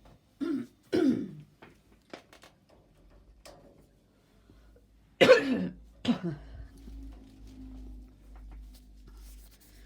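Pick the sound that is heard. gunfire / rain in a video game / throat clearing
throat clearing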